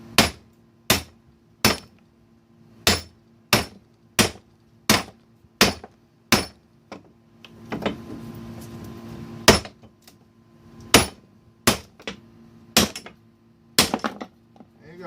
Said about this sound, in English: Go for the bigger hammer first. Now remember, this is without a press.